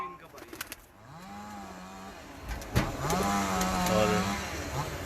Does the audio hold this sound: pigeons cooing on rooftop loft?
yes